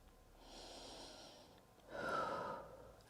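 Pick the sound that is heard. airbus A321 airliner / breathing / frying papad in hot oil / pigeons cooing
breathing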